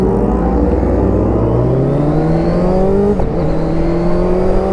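Motorbikes rev at a group ride gathering, one engine loud and close, its pitch climbing steadily through a long rising whine with a brief dip near the end and a rough low rumble underneath.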